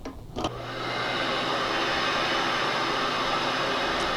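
A MAJSx2 analysis machine starts with a click and then runs under vacuum pressure, a steady, loud broadband hiss and hum holding constant for several seconds without any speech.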